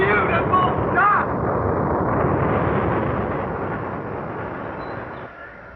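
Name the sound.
rocket launch roar, radio drama sound effect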